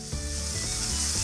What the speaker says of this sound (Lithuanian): Įkaitusi keptuvę dedame maltą jautienos